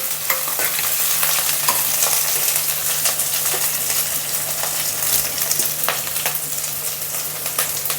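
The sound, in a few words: garlic paste frying in pan for vermicelli upma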